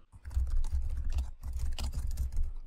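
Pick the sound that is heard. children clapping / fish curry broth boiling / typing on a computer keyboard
typing on a computer keyboard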